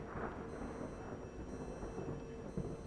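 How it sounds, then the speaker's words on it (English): Heavy rain in England pours down as a constant, fairly faint hiss of dense drops with no breaks, heard alone without voices. "It's not just raining, it's proper raining now."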